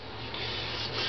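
Sandpaper rubbing back and forth against a Honda CX500 engine part, a steady scratchy rasp growing slightly louder, close up with no talking.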